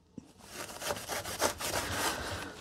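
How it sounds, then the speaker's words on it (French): Horsetail stems are chopped finely with scissors or a large knife, giving close, dry rasping cuts in a quick irregular series, fairly soft and without talk. "vous pouvez utiliser soit un ciseau ou un gros couteau et on va le couper le plus finement"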